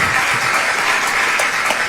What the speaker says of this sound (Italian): Ovviamente un applauso per loro.